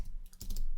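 Keys on a computer keyboard clatter in a short burst of a few quick taps, close and fairly quiet, with no talking.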